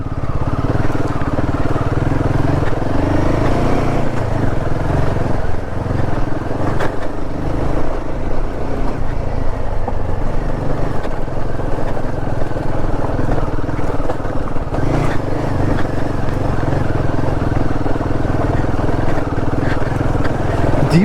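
Royal Enfield Himalayan 450 motorcycle climbing a rough stony off-road trail to a mountain peak, its engine droning loudly and continuously as the rear tyre slips on loose stones, with wind rumble throughout.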